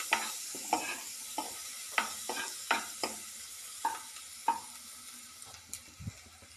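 Onions browning in a pan over low to medium heat, a steady sizzle broken by the regular scrape and clack of a spoon stirring, close up, with no talking.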